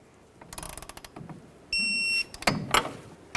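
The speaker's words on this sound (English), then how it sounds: "Now let's torque this upper ball joint to 46 foot-pounds." A torque wrench ratchets clicking close up while tightening the upper ball joint nut on a 1998-2011 Ford Ranger, with a short steady electronic tone partway through and a few sharper clicks near the end.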